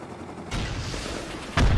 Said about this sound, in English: I'm going to try to rocket inside.